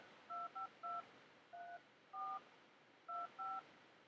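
A cell phone dials a Google Voice number with DTMF keypad tones: seven short, clean beeps in uneven groups, quiet and alone against faint background hiss.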